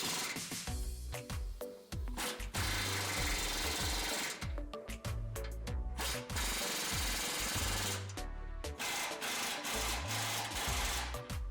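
Ratcheting wrench tightening grille guard bracket bolts on a 2009-2014 Ford F150 during a Westin HDX winch mount grille guard install, heard as loud, repeated rhythmic metallic clicking bursts with brief pauses and no talk.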